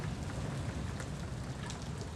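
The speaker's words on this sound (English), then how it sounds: "All this rain really isn't helping." Rain falls in the sailing video game Following Seas, a dense, constant hiss of drops that stays steady and fairly loud throughout, with no other sounds.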